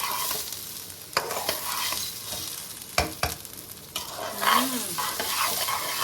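Rice and chickpeas fry with cashews and raisins in a pan, sizzling up close while a utensil scrapes and stirs in sharp, uneven strokes.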